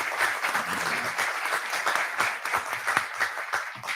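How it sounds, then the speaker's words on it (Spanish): An audience at a university panel of journalists applauds for Francisco with a dense, steady burst of clapping from many hands, lasting about four seconds without a pause. "Un aplauso para Francisco."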